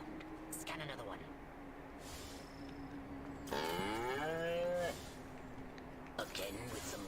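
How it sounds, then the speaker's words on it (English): A cow moos in the Destroy All Humans video game, one long drawn-out low bellow in the middle with shorter moo-like calls around it over a faint hum, and no voice over the lowing. "Again with the moo."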